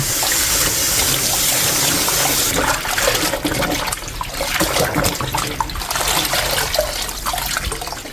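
Aged kimchi rinsed under running water, washing out the chili flakes: a loud, continuous splashing rush from a tap into a sink, steady and close throughout, with no voices.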